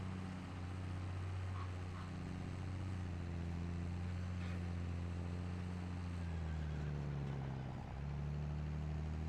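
A tractor engine in the Farming Simulator 25 game, droning steadily and close with a low, humming tone whose pitch slides down and up as the load changes, with no talking.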